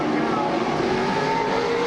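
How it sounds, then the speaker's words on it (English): A race car, number 15, drives down the back straight of a racetrack with a steady, loud engine roar throughout, close and unbroken, with no talk over it. "Race car, of course, owned by Chris and his father."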